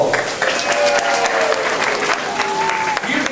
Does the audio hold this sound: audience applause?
yes